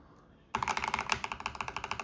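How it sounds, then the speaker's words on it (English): Fast, steady typing on a Logitech G Pro X TKL Rapid magnetic-switch mechanical keyboard starts abruptly after a quiet pause, a close, crisp run of clacking keystrokes with no talk over it. "this feels very standard, just like your traditional mechanical keyboard"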